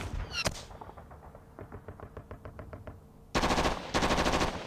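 Gunfire from mechanized infantry in the Modern Campaigns Middle East 67 wargame, a rapid run of small-arms shots in a steady burst, followed by louder, denser volleys near the end.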